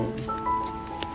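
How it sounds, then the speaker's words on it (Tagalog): Steady rain patters and hisses on surfaces throughout, with a faint tonal hum and some brief rustling mixed in. "Pasensya na po, umuulan."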